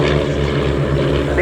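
Historic Army Air Corps propeller aircraft flying a display at the RAF Cosford Airshow: a steady, loud engine and propeller drone holds throughout with a constant low hum.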